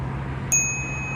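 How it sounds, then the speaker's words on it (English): A Knog Oi Classic bicycle bell rings once with a bright, clear ding that lingers as a thin sustained tone over a low steady background hum. "the Knog Oi Classic Bike Bell"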